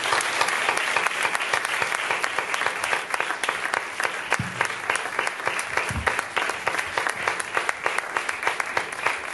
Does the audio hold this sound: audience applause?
yes